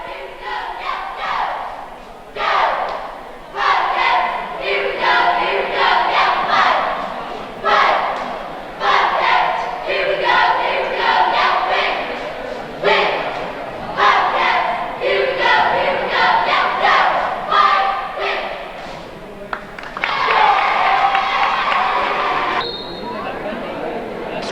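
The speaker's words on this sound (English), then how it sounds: "Now we've got the varsity cheering squad on the floor." A high school varsity cheerleading squad performs rhythmic unison chants on the floor at a boys' basketball game, loud shouted phrases repeating in regular bursts with short pauses, crowd noise beneath.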